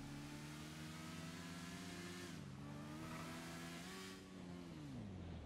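A motorcycle engine in a video game drones steadily at high revs, its pitch dipping and rising slightly as it shifts, loud and continuous with no talk.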